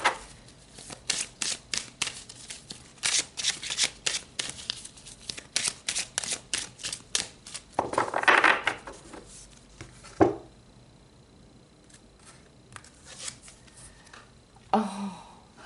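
Numerology cards shuffled by hand during a spiritual tarot-style reading, a run of rapid close riffling flicks, then a pause and a card drawn from the deck with a soft slide.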